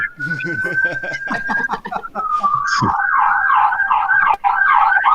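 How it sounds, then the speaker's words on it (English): A loud siren wails in a rapid up-and-down warble, rising out of voices talking at the start and continuing steadily to the end. "who's got the siren?"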